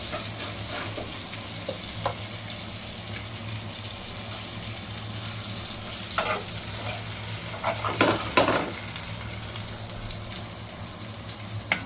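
Chilapi fish frying in a pan for a spicy Maharashtrian fish fry, a steady close sizzle throughout with a faint low hum underneath and a few brief clinks and scrapes near the end.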